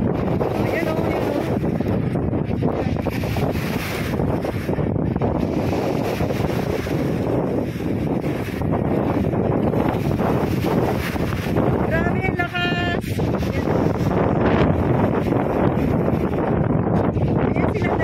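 Strong wind buffets the microphone in a steady roar at Manila Bay during paragliding, with people talking over it throughout.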